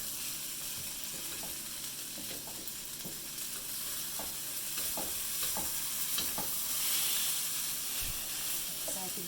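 Edamame stirred into Japanese fried rice in a wok pan, a steady sizzle and hiss with repeated scraping stir strokes, close and fairly loud.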